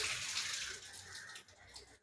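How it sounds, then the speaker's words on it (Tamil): Water pours and splashes steadily for washing clothes at a house in India, a continuous hissing rush that fades slightly near the end, with no voices. "அங்கே வந்து துணி துவைக்கிறாங்கன்னு நினைக்கிறேன். அதனால் தண்ணியை ஊற்றுறாங்க இந்த டைமில் தான்."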